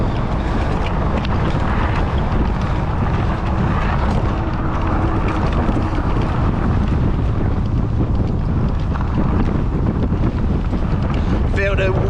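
Strong wind buffets the microphone while riding a bicycle with front suspension downhill at about 33 km/h, a loud, steady roar that fills the whole stretch without break.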